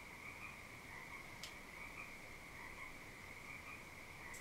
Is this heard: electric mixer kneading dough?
no